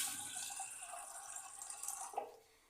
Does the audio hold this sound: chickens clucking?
no